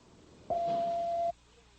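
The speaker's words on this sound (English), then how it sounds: "at the sound of the tone, you can leave your name, the time you called, your phone number, and any message" Answering machine beep: a single steady electronic tone lasting under a second, clear and prominent over faint line hiss, with no voices during it.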